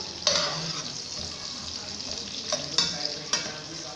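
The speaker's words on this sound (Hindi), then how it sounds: "इसको गोल्डन सा ब्राउन कर लेंगे" Onions frying in oil until golden brown for aloo pulao, a steady moderate sizzle with a few sharp stirring clicks against the pot, no talk.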